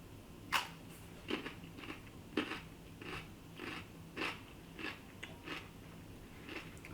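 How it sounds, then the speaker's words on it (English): Someone bites and chews a crisp hydroponically grown Nokya cucumber, up close in a quiet room, giving about a dozen sharp crunches spaced irregularly over several seconds. "we're going to taste the hydroponic one first"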